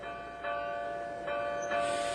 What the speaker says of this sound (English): The wind blew gently, and the bell chimed sweetly.